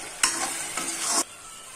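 Duck curry stirred in a hot pan as spice water is poured in, two short close bursts of hissing sizzle and scraping, with no voices.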